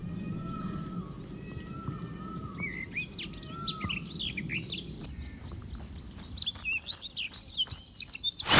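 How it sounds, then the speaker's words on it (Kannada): Various bird species call and chirp around the bird island at Lingambudhi Lake in Mysuru, a layered chorus of overlapping tweets and whistles over soft outdoor background noise, growing busier toward the end. "ಇಲ್ಲಿ ವಿವಿಧ ಜಾತಿಯ ಪಕ್ಷಿಗಳ ಕೂಗು"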